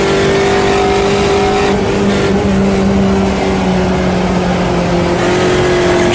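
Loud, steady engine drone of race cars, a Chevette and a JPS Uno, in an Automobilista 2 endurance race, with a sustained tonal hum and shifting pitch as the engines hold revs.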